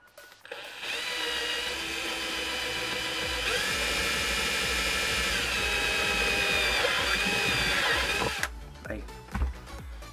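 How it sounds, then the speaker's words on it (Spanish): A power drill bores a 10 mm hole for a diode in a Bluetooth stereo music player build, a loud, close, steady high-pitched whine lasting about eight seconds before cutting off, followed by a few light handling knocks. "tenemos que hacer aquí un orificio de 10 milímetros"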